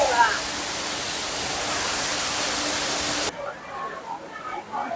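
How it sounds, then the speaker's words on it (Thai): A waterfall in Taipei, Taiwan gives off a steady, dense roar of rushing water for about three seconds, then cuts to quieter background with faint voices. "น้ำตกสวยมากเลย"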